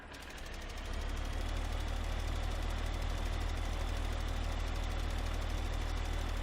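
A small Buhrer tractor in Farming Simulator 15, pulling a fertilizer spreader across a cornfield, its engine building up then holding a steady, chugging low drone, close and continuous with no voices.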